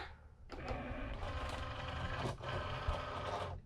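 A Cricut cutting machine loads a sheet of holographic vinyl with a steady mechanical whir and rolling hum, close and continuous after a brief quiet start, with a few small clicks.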